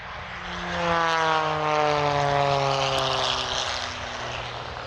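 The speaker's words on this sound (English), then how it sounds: "it's a lot more fun to go see what an airplane can really do" Propeller airplane passing overhead at an air show, a loud steady engine drone whose pitch slides downward as it flies by, with wind-like roar and no talking.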